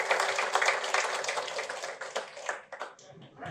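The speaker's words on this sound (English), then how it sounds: "let's give a big round of applause to" Audience at a Melbourne Python meetup applauding, a moderate crowd of hand claps heard close, thinning into scattered individual claps before fading out.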